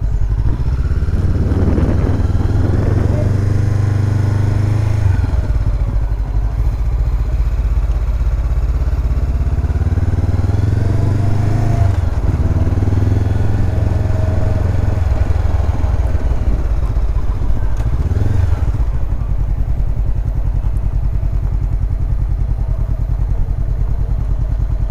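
A motorcycle engine runs continuously through a safety training course, idling and revving in steady loud waves with a few rising throttle surges, close to the microphone with no talk over it.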